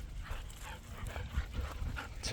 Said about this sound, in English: I've never seen two dogs react so much to being on camera.